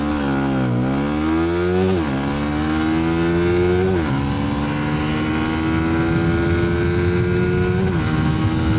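A Yamaha Sniper 155 VVA six-speed motorcycle pulls from a standstill toward top speed. Its engine note climbs in steady rising sweeps, dropping briefly at each gear change, and stays loud and close throughout.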